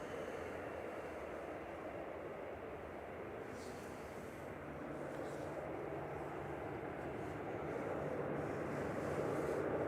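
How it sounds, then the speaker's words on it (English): A Royal Jordanian Airbus A320 classic airliner sits at Manchester Airport with its engines running, a low, distant, steady drone that builds slightly toward the end under faint background noise. "Royal Jordanian Flight 116 back to Amman, JYAYS A320 Classic. About to roll."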